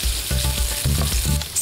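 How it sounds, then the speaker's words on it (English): Sliced onion fries in hot sunflower oil, a loud close sizzle with bursts of crackle and several soft thumps as the slices are stirred and settle in the pan. "First ingredients, some sliced onion going in."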